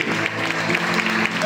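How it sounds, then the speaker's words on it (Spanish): Brief applause from a show audience, close dense clapping that carries evenly through a short burst with a voice mixed in. "Fuerte el aplauso."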